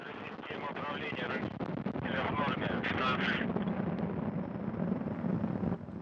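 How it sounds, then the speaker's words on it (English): Russian Progress resupply rocket lifting off for the International Space Station, a continuous broad roar with a low rumble swelling slightly over several seconds, heard under a commentator's voice. "Liftoff of the 68th Progress resupply craft, bound on a 2-day journey to the International Space Station."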